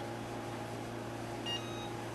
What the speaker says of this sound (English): You'll hear a beep when it's done.